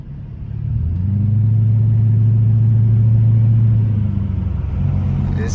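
A straight-piped 5.7 HEMI V8 revs up and holds a loud, deep droning exhaust rumble for several seconds before easing off, close and unmuffled, with no talking over it.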